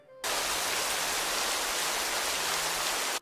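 Rain falls in a dense, even hiss that starts abruptly and holds steady at high volume for about three seconds before cutting off, with no voices present.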